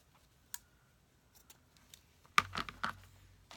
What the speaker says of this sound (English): And then I'm just going to cut it in half, so I have 2 ribbons,